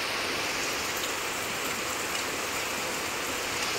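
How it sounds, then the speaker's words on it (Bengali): Heavy rain pours down in a steady, loud, unbroken wash of noise that does not vary. "এখন প্রচুর জোরে বৃষ্টি এসেছে"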